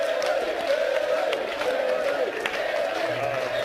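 Appreciative crowd at the 2014 World Series of Poker final table in Las Vegas applauding a departing amateur player, a steady wash of clapping and cheering that carries under the whole stretch.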